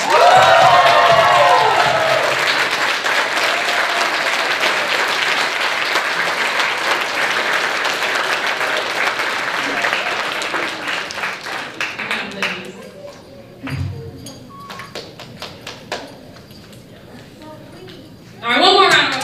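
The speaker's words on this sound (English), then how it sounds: "one more round of applause" An audience at a middle school MESA awards ceremony claps and cheers loudly at first, then the applause thins out over several seconds, with a presenter speaking near the end.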